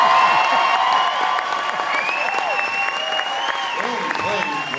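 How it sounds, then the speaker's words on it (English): Steady applause from an audience with scattered voices mixed in, holding at an even level throughout. "Starting pitchers just do not get the applause they deserve."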